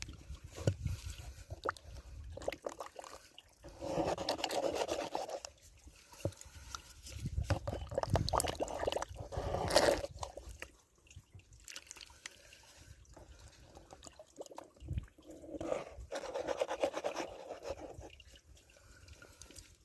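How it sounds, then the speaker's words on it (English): Water and gravel swirl and slosh in a gold pan at a camp claim, close, uneven splashing and gritty rattling in repeated bursts with quieter gaps between. "I just panned out that third pan"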